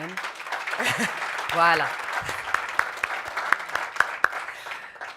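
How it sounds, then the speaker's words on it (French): Conference audience at the opening of the Africa Forum gives light, scattered applause with sparse individual claps, while a speaker talks over it at the start. "Je vous invite à réapplaudir Madame Jarba quand même."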